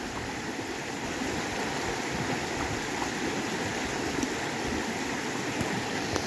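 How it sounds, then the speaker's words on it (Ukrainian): Steady outdoor flowing stream water runs near a small bridge, a constant broadband rush with no talk. "Вода, шик."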